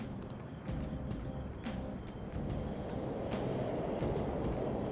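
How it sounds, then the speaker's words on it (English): Subway trains running in the Persona 5 Royal video game, a continuous low rumble and rattle that swells gradually, with repeated short clanking hits layered over it and no talk. "The trains are totally running."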